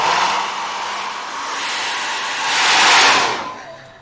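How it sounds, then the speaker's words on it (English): A hairdryer blowing on watercolour paint gives a steady, close, breathy rush of air that swells slightly louder near the end before cutting off, with no talking over it. "just give a little bit of hairdryer, so I apologise for the noise."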